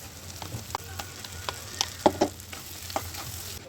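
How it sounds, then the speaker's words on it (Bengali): Pointed gourd paste sizzles in a pan with fried onion, a steady crackle punctuated by sharp pops and spits, close and clear with no talking. "পেঁয়াজটা এবার দেখো ভাজা হয়ে গেছে। এবার আমি ওর মধ্যে পটল বাটাটা দিয়ে দেবো।"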